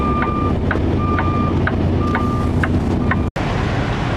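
A truck hooks back up to a tank trailer after dropping a van trailer on a hot day. A loud, close engine rumble runs under an evenly repeating back-up beep, then stops with a sudden cut.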